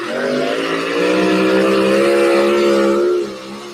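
The High Cotton two-wheel-drive pulling truck roars loudly up close as it hauls the sled at a Wisner, Nebraska pull, its engine holding a sustained high-revving drone that swells and then eases slightly near the end.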